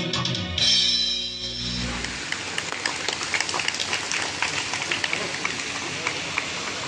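An audience applauds after a dance drama performance on the heroism of Lachit Borphukan, a dense, steady patter of many hands clapping that follows a brief held musical tone at the start.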